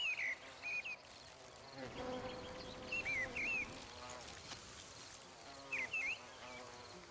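Bees and bumblebees buzz around flowers, a soft layered drone mixed with occasional bird chirps outdoors, quiet and fairly distant.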